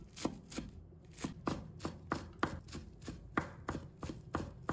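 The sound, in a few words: chopping scallion leaves with a knife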